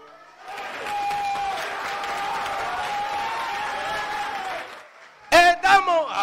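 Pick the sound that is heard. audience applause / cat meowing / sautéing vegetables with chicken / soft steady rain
audience applause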